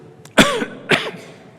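Two hoarse, close coughs about half a second apart, each with a rough throaty tail, against quiet background.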